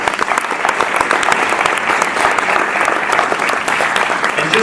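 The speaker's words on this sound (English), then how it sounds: "Let's give him a big round of applause." Sustained audience applause fills the room for a keynote speaker at a business conference, steady dense clapping at close range throughout, with no break in the sound.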